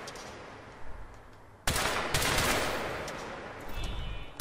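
Rapid gunfire in Crysis 3 bursts out loudly after a quieter opening, a dense rattling volley that tapers slightly before a few more shots near the end.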